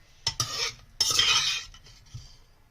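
The metal lid of a pressure cooker being opened after cooking sweet potatoes: a few close clanks and scrapes of metal, with a brief hiss and rattle in a quiet kitchen.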